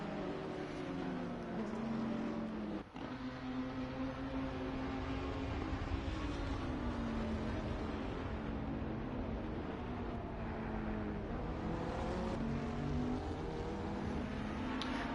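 Racing cars, including a Honda, a Ferrari and a Bentley, in a one-hour enduro race: a continuous droning engine note that rises and falls slightly, heard at a distance without voices.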